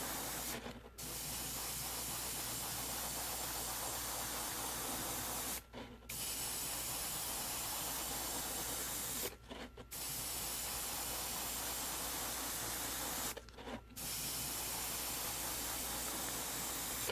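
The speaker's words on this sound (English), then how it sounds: "just use the Zenithal spray" Airbrush sprays paint onto a Battletech miniature in zenithal passes at a 45-degree angle, a steady broadband hiss held for several seconds at a time, with four brief pauses as the trigger is released, close and loud.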